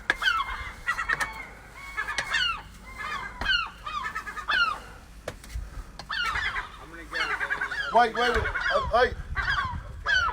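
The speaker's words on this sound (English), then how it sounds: "I'm going to put this seagull back with his mummy up here" Shrill, repeated calls from a young seagull being returned to its parent near a house, coming in rapid bursts throughout, loud and close, with a person briefly speaking.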